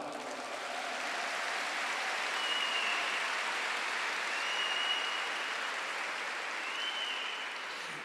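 Church congregation applauding during a Holy Week service, a steady, moderately quiet wash of many hands clapping that swells gently and holds for several seconds without speech.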